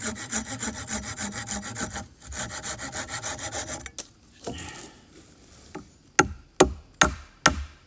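A wooden tent peg has its end sawn off with a hand saw, steady rasping back-and-forth strokes up close, then a few sharp knocks as the cut piece breaks away and is tapped.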